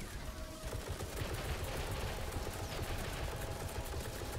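Gunfire in the video game Atomic Heart, a dense, continuous barrage of rapid shots forming a loud, sustained clatter with no pauses.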